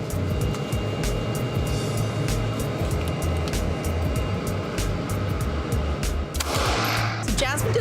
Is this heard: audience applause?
no